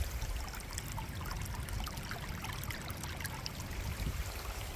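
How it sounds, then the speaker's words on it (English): Running water flows down a small stream on a rural property swollen by heavy rain, a continuous close burbling and trickling wash that holds steady throughout with no voices. "I love the sound of this running water."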